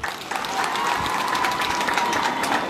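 An audience claps at a Mashujaa Day celebration in Suguta Bobasi, Kisii County: a dense, steady wash of applause lasting a few seconds, with a faint hum running underneath.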